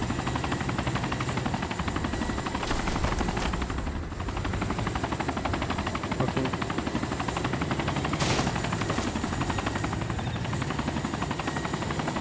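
A low-flying helicopter drones continuously with a steady rotor throb in the DayZ Overpoch game, filling the whole stretch while a voice briefly speaks once.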